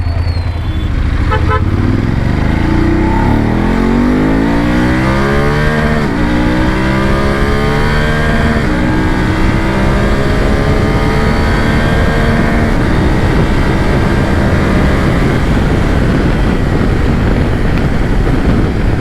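BMW F 850 GS motorcycle engine idling and revving after a one-touch start, a loud, steady near rumble with rising and falling engine pitch sweeps over a constant vibration-heavy drone.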